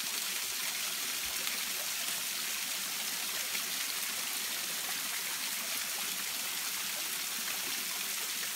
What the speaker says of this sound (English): Pretty cool little mossy kind of cascade actually over there